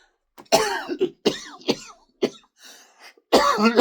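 A run of harsh, close coughs in several bursts with short gaps between them, ending in one long, heavy cough.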